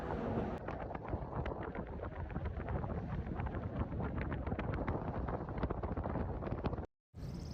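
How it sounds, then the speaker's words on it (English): Strong wind roars and buffets the microphone while cycling across a bridge in San Francisco: a loud, continuous, rumbling rush with no break until a brief cutout near the end. "The wind was so strong as I was riding the bridge"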